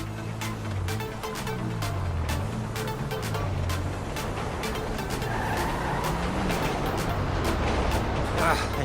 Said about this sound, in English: We're leaving this car, taking the truck.